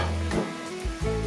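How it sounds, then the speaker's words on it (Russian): Potatoes fry in a pan over high heat, giving a brief, steady sizzle with faint stirring scrapes, close by and alone. "Все, жарим картофель."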